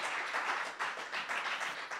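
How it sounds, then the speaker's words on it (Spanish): A church congregation applauding, a steady patter of many hands clapping heard from a slight distance at moderate volume, alone without speech. "Fuerte aplauso. Fuerte ese aplauso"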